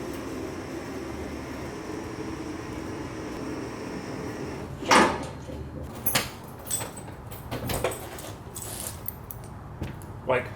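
Car doors open on a vehicle lowered on a shop lift, giving a firm clunk and then a series of lighter latch clicks and thuds over a steady background hum, with no talk.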